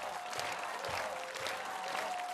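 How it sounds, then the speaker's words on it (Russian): Studio audience applause on a Russian-language talk show, a quiet, continuous patter of clapping heard at a distance, low in level and without speech over it. "Ваши аплодисменты."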